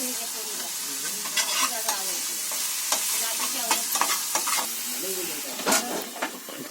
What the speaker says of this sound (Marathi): तर कांदा लाल होईपर्यंत परतवणार का थोडासाच परतवणार तुम्ही आता?